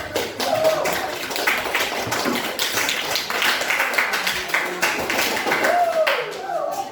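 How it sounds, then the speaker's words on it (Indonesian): A group applauding after a school class presentation: dense, steady clapping that lasts throughout, with voices mixed in underneath. "kasih tepuk tangan"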